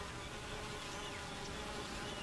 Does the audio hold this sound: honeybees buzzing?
yes